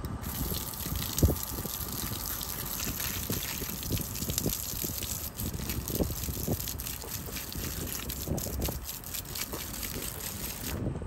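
Water is rinsed down over the ground around an aquarium tank setup, a steady hissing spray that runs without a break, with small splashes and knocks scattered through it.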